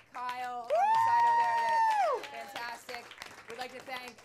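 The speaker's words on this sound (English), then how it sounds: "Another round of applause for John Amici in the audience" A comedy-club audience at Largo in Los Angeles applauds, led by a loud sustained whoop from one voice, then scattered clapping and cheers fade out.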